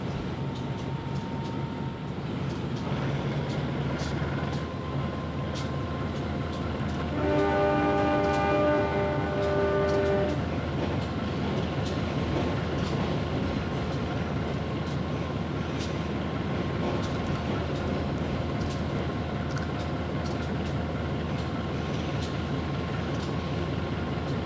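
Matarmaja passenger train from Malang in Trainz Simulator, with a steady rumbling run throughout and a horn-like tonal blast around the middle.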